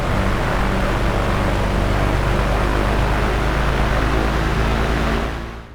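A Bonanza piston aircraft engine warming up in a flight simulator game, a loud, steady propeller drone that holds level before fading away at the end.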